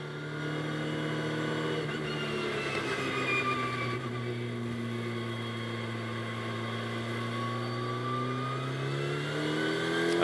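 GT2 race cars roll into the pit lane at the Barcelona circuit, a steady engine drone with shifting harmonic tones running continuously at moderate distance, no voices over it.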